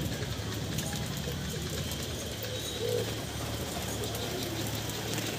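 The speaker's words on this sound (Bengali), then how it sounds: "খুব ভালো কোয়ালিটির পায়রা।" Teddy and Golden pigeons kept as a pair coo softly beneath steady background noise, the low calls brief and somewhat masked.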